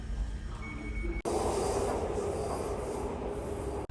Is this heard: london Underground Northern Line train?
yes